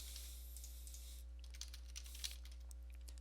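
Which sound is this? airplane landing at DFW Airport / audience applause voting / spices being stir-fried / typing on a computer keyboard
typing on a computer keyboard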